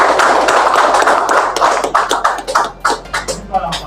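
Dense indoor audience applause for a foundation at a trainers' training session, many hands clapping together before thinning out into scattered individual claps near the end.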